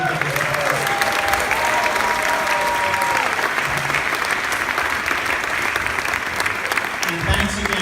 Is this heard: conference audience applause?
yes